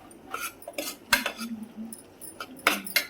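Mutton being stirred with turmeric in a metal pot: a string of scraping, clinking spoon strokes against the pot at close range, with irregular taps and no talk.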